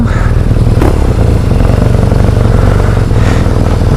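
A motorcycle engine runs loud and close throughout on a country ride in the Cotswolds, with a steady, throbbing drone and no voices over it.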